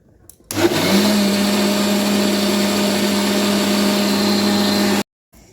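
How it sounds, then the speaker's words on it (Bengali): A kitchen mixer grinder runs steadily for about four and a half seconds, grinding semolina that has soaked in milk. The motor whine is loud and close, starts abruptly and cuts off sharply, with no talking. "এবার এটা আমি মিক্সিতে পিষে নেব।"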